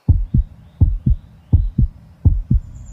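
A heartbeat, clear and close, beating in steady paired lub-dub thumps, about four double beats in quick succession with nothing else heard.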